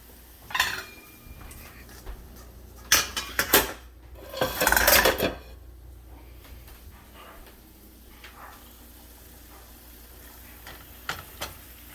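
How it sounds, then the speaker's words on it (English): Noodles being stirred in a cooking pot for shrimp pasta: scattered metallic scrapes and clinks of a utensil against the pot in a few short clusters, fairly close, over a quiet kitchen background with no talking. "All the meanwhile, still stirring our noodles."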